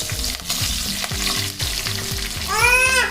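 Curry leaves hit hot oil in a home kitchen while upma is made, giving a loud, steady crackling sizzle, with a low rhythmic hum underneath and a brighter burst of spitting near the end.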